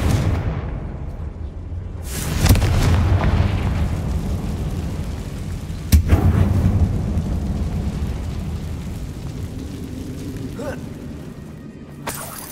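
A Confringo fire spell explodes in the game Hogwarts Legacy, a deep booming blast followed by a rumbling roar, then a second sharp burst and a decaying crackle and rumble, with game effects fading at the end.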